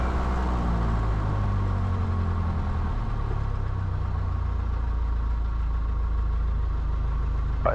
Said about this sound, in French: Ralenti moteur.